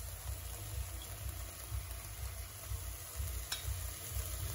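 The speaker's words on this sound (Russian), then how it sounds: "На сковороде обжариваем лук." Onion, chicken mince, tomato and pepper frying in a pan, a steady close sizzle with faint stirring scrapes throughout and no voices.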